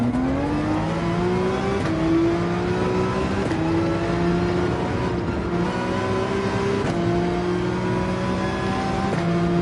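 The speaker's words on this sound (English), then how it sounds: "that car is accelerating nice and quickly with a great sound. Audi R8. Wonderful V10" An Audi R8's high-revving V10 engine in the racing game Gran Turismo 7 accelerates hard through repeated gear changes, its pitch climbing and dropping with each shift, loud and close.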